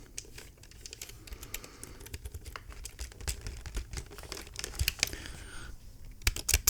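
Close, sensitive typing on a computer keyboard, a rapid run of crisp clicking keystrokes with brief gaps and a quiet lull before a final flurry of keys.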